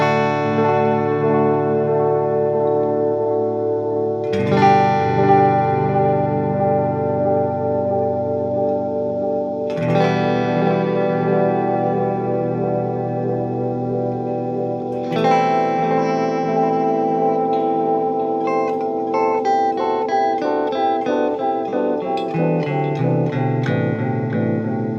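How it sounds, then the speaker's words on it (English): An electric guitar plays through a TC Electronic Flashback delay pedal with the feedback set high. Chords ring out in loud, sustained swells every few seconds, and long repeating echoes trail off and overlap, with no talking. "I add feedback quite a bit there, and it will make those echoes last a lot longer."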